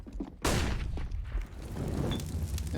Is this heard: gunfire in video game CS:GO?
yes